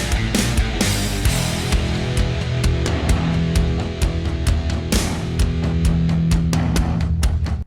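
Metallica's "Here Comes Revenge" riff plays loud and dense: heavy distorted guitars and driving drums pound a steady repeating pattern with crashing cymbals, continuous throughout with no talking.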